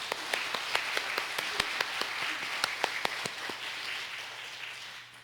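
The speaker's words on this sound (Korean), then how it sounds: "하나님께 영광의 박수 올려드리겠습니다" A church congregation applauding together during a Sunday service, a steady wash of many hands with sharp individual claps standing out, fairly distant and easing off at the end.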